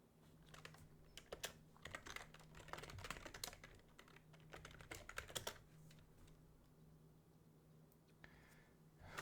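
Rapid keystrokes clatter on a computer keyboard in bursts of irregular clicks, close and fairly loud, pausing briefly before a few more taps near the end, with a steady low hum underneath.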